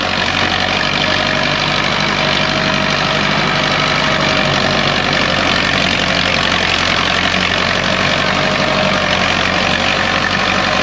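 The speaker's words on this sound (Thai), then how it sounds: "ติดตั้งบนฟอร์ท640แม่ท่อดังกระหึ่มมากๆเลยครับ" Ford 6640 tractor running a CMT mulcher through pineapple plants and tough grass, a loud, continuous engine drone with a churning mechanical roar that holds steady and close throughout, no voices.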